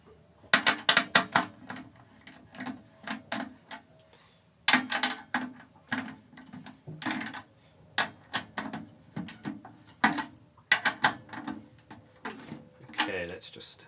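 Metal drum key turning tension lugs on a drum during tuning, a run of sharp clicking and ratcheting bursts in irregular clusters, close and fairly loud, with brief pauses between rounds of tightening.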